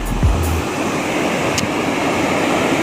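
River water overflowing a mini dam in Masantol, Pampanga roars as a loud, steady rushing wash with no pauses, like heavy surf, with a brief low thump at the start.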